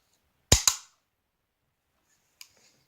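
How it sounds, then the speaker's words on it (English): A Norinco NP34 9mm pistol's decocker drops the hammer in two sharp, close metallic snaps in quick succession, followed a couple of seconds later by a fainter small mechanical click. "hit the decocker on this side"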